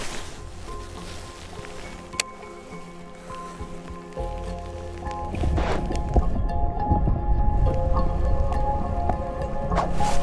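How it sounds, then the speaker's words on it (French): Light winter rain shower falls during lure fishing, a steady hiss of drops that grows louder and denser in the second half, with faint rustling and small knocks nearby, no talk. "Là sous la petite averse"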